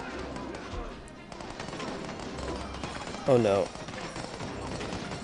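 Gunfire and cannon fire from a DomiNations raid with Gatling troops and ballista towers, a dense steady crackle of game combat running under a brief spoken exclamation.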